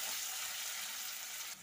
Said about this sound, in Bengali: আলু আর পেঁয়াজটা একটু লাল লাল করে ভাজবো